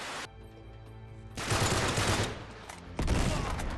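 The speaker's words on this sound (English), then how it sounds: "Oh my God, I just wasted my grenade and killed myself." A grenade blast in an Uncharted game, a loud, broad roar of explosion rising sharply and followed by a second burst, heavy and close with no talking.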